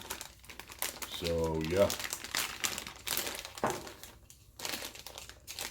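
Crinkly plastic packaging around a new carburetor for an XR70 dirt bike rustles and crumples close by, with someone talking over the handling.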